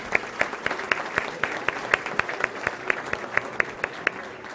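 An audience at the German School of Cuenca's anniversary family festival applauds the school's founders, with a steady patter of many hands and a few louder distinct claps standing out over a crowd murmur.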